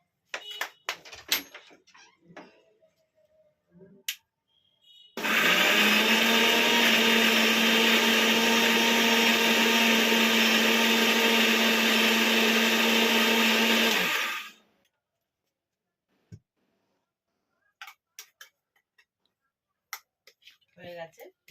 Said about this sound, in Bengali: এবার আমি পেঁয়াজটা পেস্ট করছি।